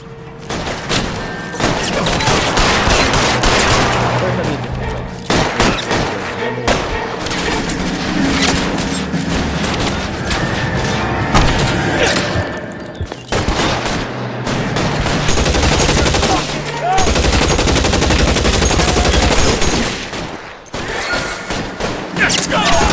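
A video-game shootout in LA Noire at an electroplating works erupts in dense, loud gunfire, rapid machine-gun bursts and single shots crackling almost continuously with short pauses, heavy booms mixed in.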